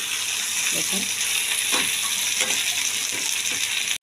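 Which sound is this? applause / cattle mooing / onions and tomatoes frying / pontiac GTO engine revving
onions and tomatoes frying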